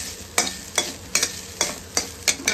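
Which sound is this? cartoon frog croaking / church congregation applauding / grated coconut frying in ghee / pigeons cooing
grated coconut frying in ghee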